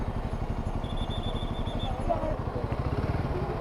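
A Royal Enfield Himalayan 450 motorcycle rides up a slope in monsoon-season Tenkasi. Its close, rhythmic engine thumping pulses steadily throughout, with voices faintly in the background.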